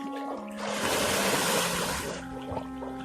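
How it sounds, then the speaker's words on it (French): Water is poured and splashes over a soaped person washing outdoors in the Arctic, a close, broad rushing splash lasting a couple of seconds before easing to trickles. "Le rinçage maintenant."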